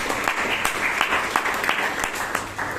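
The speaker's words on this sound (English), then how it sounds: "So let's hear a round of applause for that." An audience at a Bangalore Toastmasters club meeting applauds, a close, steady round of many hands clapping that holds its level for a few seconds.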